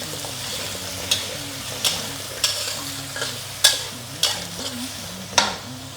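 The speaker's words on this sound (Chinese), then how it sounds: "你看我这个金瓜就倒去炒嘞" Pumpkin and dried shrimp stir-fried in a wok: a steady close sizzle with a spatula scraping and knocking against the pan at regular intervals, about eight distinct clacks, no speech.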